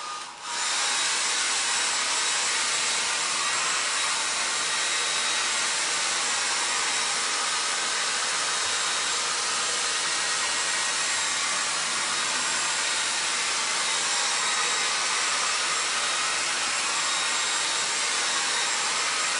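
A handheld dryer blows steadily to dry a floral frame craft project, a loud, continuous close whoosh that runs unbroken from start to finish.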